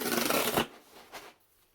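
A package tear strip ripped open in one quick, loud close tearing rush, then a shorter softer rip before quiet.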